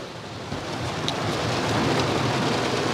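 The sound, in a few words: rain falling outdoors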